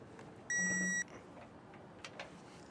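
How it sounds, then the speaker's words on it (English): A torque wrench tightening a weight distribution hitch on a 2017 Chevrolet gives one clear electronic beep of about half a second when it reaches its torque setting, heard alone over a quiet background. "We're going to tighten this down to the torque setting it has listed here. So I'll get this nice and tight till we hear that beep."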